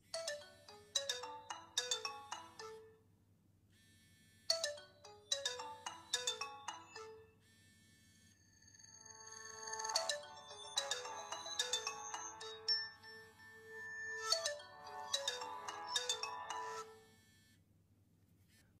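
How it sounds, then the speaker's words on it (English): A Nokia 3310 phone plays a melodic electronic ringtone at maximum volume through its small speaker, repeating bright tonal phrases in bursts with short gaps, thin and slightly distant, with no talking. "let me just play some ringtone so you can get the idea of speaker, how it sounds"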